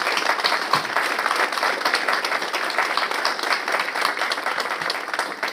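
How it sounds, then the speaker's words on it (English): A graduation convocation ceremony crowd claps for the graduates in a dense, steady wash of applause that holds at an even level throughout. "You all deserve a big round of applause."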